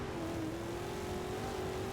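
A car engine in the racing game Forza drones continuously at a nearly constant pitch, loud and steady, with no voices.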